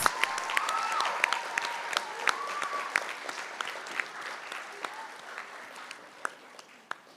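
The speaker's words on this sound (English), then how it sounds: "Let's give them a round of applause." Audience applause for students at a live-streamed event, a steady bed of clapping with distinct sharp claps and a few cheers or whoops early on, gradually tapering toward the end.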